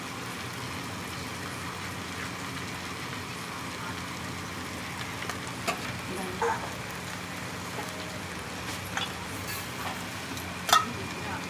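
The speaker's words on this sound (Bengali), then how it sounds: "এর মধ্যে চলে গেল জিরে আদা লঙ্কা, একটু নাড়িয়ে দিই।" Cumin, ginger, chili and beaten yogurt are stirred in a hot pan, making a continuous soft sizzle with occasional clinks and scrapes, and a voice speaks over it.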